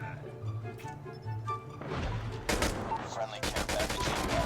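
AK assault rifle gunfire in the Call of Duty Mobile video game, with sharp rapid bursts of automatic shots growing louder toward the end over game music and background sounds.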